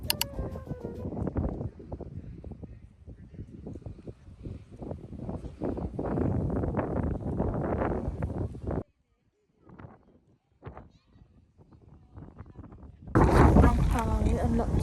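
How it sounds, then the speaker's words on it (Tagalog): Gusty wind in Switzerland buffets the microphone in heavy, uneven rumbles, dropping briefly to near quiet before surging loudly again. "Sobrang lakas ng hangin. Nadadala kami."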